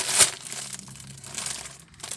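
A taped package is opened, with a sharp crinkle of wrapping material at the start followed by softer rustling and crumpling, close and fairly loud.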